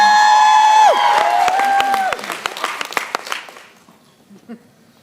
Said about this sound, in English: They deserve more applause than that.